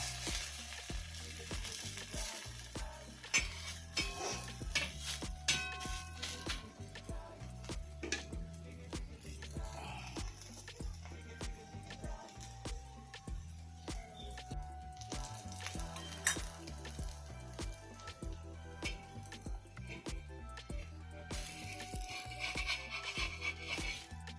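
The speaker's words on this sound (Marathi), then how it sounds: "तेल टाकते आणि त्याला परतवून घ्यायचं" Dough frying in oil in a pan, sizzling steadily and quietly for a long stretch with faint stirring and scraping ticks mixed in.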